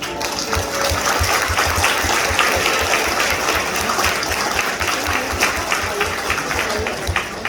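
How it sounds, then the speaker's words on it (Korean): Guests at a Korean wedding ceremony applaud together. The clapping is continuous and dense and holds a fairly even level for several seconds, with a slight rhythmic pulse underneath. "다시 한번 박수 부탁드립니다"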